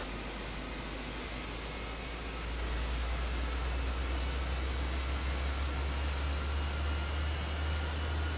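A Boeing 727-200's number 3 jet engine spools up during pushback in Microsoft Flight Simulator 2024, a steady broadband roar with a low rumble that swells and grows louder partway through, then holds constant with no talk.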